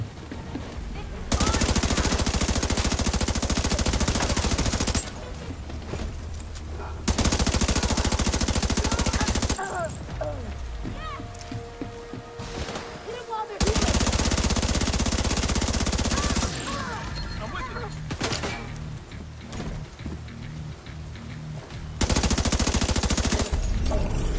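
Gunfire rattles in the shooter video game The Division 2 during a heroic control point fight at the Washington Monument, with long loud bursts of automatic fire broken by quieter gaps holding scattered shots and game sounds.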